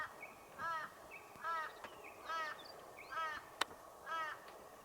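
A crow-like bird calls from a tree at morning camp, giving five evenly spaced, drawn-out harsh caws, fairly distant and faint over quiet outdoor background noise.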